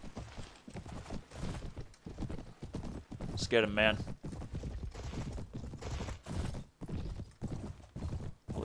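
A horse gallops in Mount & Blade: Warband (Floris mod) in steady, rapid hoofbeats close up, with a brief whinny partway through, while a player talks over the action.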